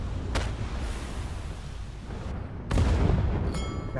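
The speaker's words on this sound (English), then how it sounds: "Nice easy torpedo shot." A torpedo striking a ship in the game Cloud Pirates, a deep rumbling boom that swells after a sharp crack, over steady low engine noise.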